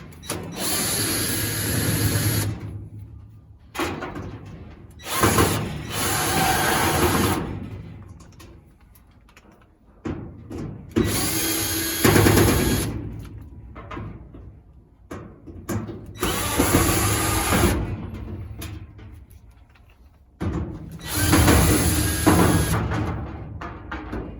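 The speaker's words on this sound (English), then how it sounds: "you're probably going to want to drill for this" A power drill removes screws from a side panel in repeated bursts of a few seconds each, with a ratcheting, grinding tone, separated by brief pauses, loud and close.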